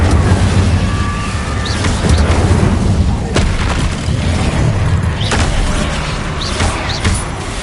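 Fiery Incendio spell blasts in Hogwarts Legacy, a dense rumbling boom with repeated whooshing bursts over a steady roar of combat effects, loud and close, with faint voice underneath.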